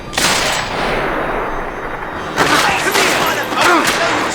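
Gunfire erupts in the video game Max Payne 3, with bursts of loud shots and booming impacts over a dense battle din while a voice shouts under the action.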